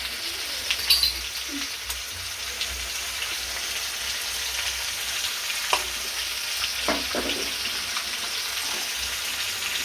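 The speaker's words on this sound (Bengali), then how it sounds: "এবার ততক্ষণ নাড়তে থাকবো যতক্ষণ না মশলাটা ভালো করে কষা হয়" A spice paste of ground cumin, ginger, garlic, onion and chili powder with turmeric, cooked for a potato and pointed-gourd curry, sizzles steadily in a pan with occasional stirring scrapes and small ticks, close and even throughout.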